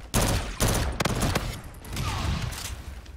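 Burst-fire weapon shots in Call of Duty: Infinite Warfare gun game mode, several loud, close rapid bursts in quick succession, followed by a lingering rumble of further battle noise.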